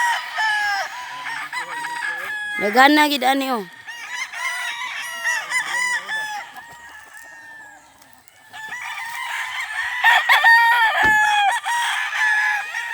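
Roosters crow repeatedly and chickens cluck on a hillside farm hacienda, a loud crow standing out near the start amid a busy, close flock, with a person speaking briefly.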